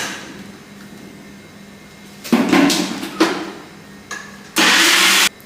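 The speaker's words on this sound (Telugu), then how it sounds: "ఇది కొంచెం మిక్సీ పట్టేసుకోవాలి" A few short bursts of a loud electric motor whir over a quiet background, the last one steady for about a second, a mixer grinder pulsing watermelon for jam.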